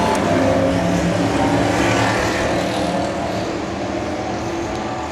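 Superstock race cars roar around the Awapuni Speedway at night, a dense, loud, continuous engine rumble from several cars that holds steady and fades only slightly, with no voices.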